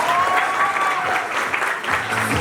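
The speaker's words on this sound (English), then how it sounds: "Ladies and gentlemen, put your hands together for clap for the people over the other side." Audience applause at a graduation ceremony, a steady wash of clapping sustained throughout, with a faint voice or tone lingering underneath.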